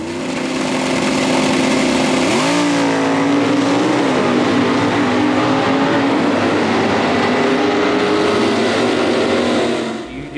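A Ford Factory Stock drag racing car accelerates on the track, its loud engine roar filling the whole stretch, pitch sliding and climbing as it pulls, then cutting off at the end.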